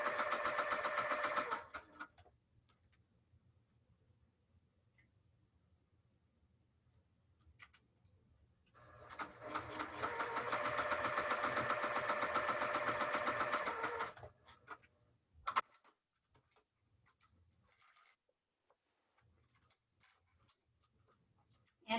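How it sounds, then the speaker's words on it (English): A sewing machine stitches the middle seams of a small pinwheel quilt block in two close, steady bursts of rapid rhythmic clatter, a short run and then a longer one, separated by quiet with occasional faint clicks. "I'm going to go ahead and sew the middle seams of the little pinwheel at the same time."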